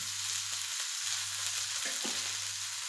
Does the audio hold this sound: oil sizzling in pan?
yes